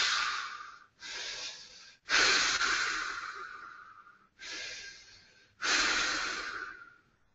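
A man imitates heavy breathing, giving five loud, drawn-out breaths, each a raspy rush of air that fades away, separated by brief silences. It is close and alone, with no other talk.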